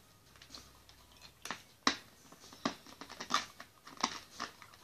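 Hard Japanese candy being crunched between the teeth while chewing, heard as a series of sharp, close, separate cracks and crisp snaps spread over a few seconds against a quiet background.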